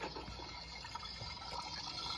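A toy washing machine plays a running-water sound: water gushes and trickles steadily at a low level, a continuous watery hiss with faint bubbling.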